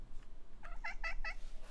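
A cat in the video game Poppy Playtime Chapter 3 gives four short, bright meows in quick succession, each clear and close, over a low hum with no talking.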